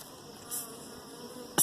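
Honey bees buzzing, a faint steady insect drone with a brief louder pass and a sharp click at the end, no voices.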